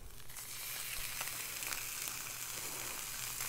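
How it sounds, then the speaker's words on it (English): Beef short ribs sear in a hot pan, a loud, close, continuous sizzle and crackle of frying meat that holds steady throughout with no talking. "if it wasn't sizzling like that, it wouldn't be hot enough, and that might cause the stuff to stick"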